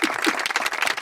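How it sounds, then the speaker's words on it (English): Inserted applause sound effect: a dense burst of many hands clapping, loud and continuous like a crowd cheering, with no speech over it. "Insert clapping noises."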